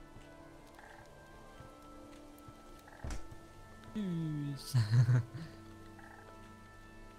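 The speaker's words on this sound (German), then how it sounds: "Oh, guck mal, ein kleiner Frosch." Small frog croaking in the Starbound video game, a short burst of low croaks near the end over a quiet ambient background, with a person talking briefly.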